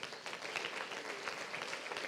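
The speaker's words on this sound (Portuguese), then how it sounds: "Aplauda ao Senhor pela vida deles." A church congregation applauding during a missions service, sustained overlapping clapping heard from a distance at low volume, with no speech over it.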